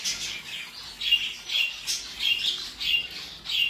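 Gibber canaries call in short, repeated high chirps and squawks roughly every half second, faint and close with light background noise.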